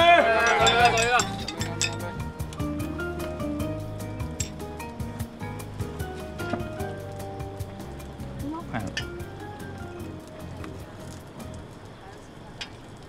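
Glasses clink in a toast among friends gathered at a dinner table, several light chimes ringing out beneath lively cheering and chatter.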